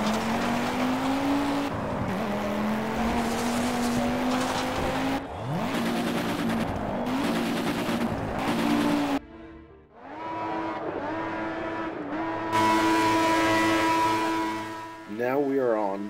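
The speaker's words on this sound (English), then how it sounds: "Now we are on the Lotus Renault Turbo." A Lotus Renault Turbo racing car in the video game Project Cars: a loud, close engine revving and climbing through gears with sharp shifts, a brief lift-off lull, then a hard pull again with tire squeal.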